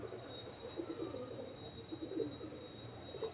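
Sheikhupuri pigeons coo softly and repeatedly in a low, murmuring rhythm, faint and somewhat distant against a steady hum, with no voices.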